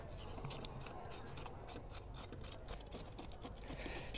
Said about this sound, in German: Ich fahre da wirklich einfach mit dem Messer gegen die Wuchsrichtung der Schuppen.